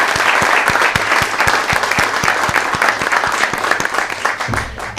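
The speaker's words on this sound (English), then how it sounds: "Round of applause." Crowd applause at an outdoor ribbon-cutting ceremony for a new East Boston ambulance bay, steady dense clapping filling the whole stretch with a few sharp individual claps standing out.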